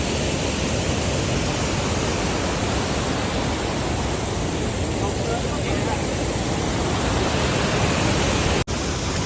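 Water rushes under heavy pressure at Ransai dam, a loud, steady broadband roar that fills the whole clip and cuts out abruptly for a moment near the end.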